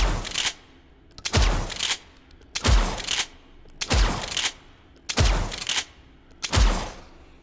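A suppressed shotgun in the video game H3VR fires six times at a steady, slow rhythm, each shot a loud close muffled boom with a short decaying tail.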